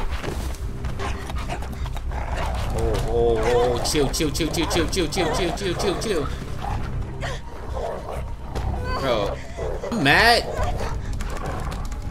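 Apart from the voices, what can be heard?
dogs fighting in the video game Beyond Two Souls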